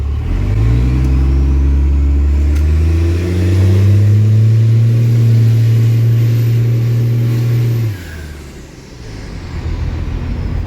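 A healthy-running truck engine idles with a deep, steady rumble, rises in a rev for several seconds, then cuts off abruptly near the end, leaving quieter background noise.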